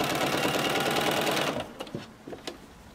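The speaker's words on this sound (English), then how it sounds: "And then sew about 6 to 8 inches." Close, rapid rhythmic stitching of a sewing machine running along folded fabric strips for a rug, steady for about a second and a half before stopping, then a few soft handling clicks.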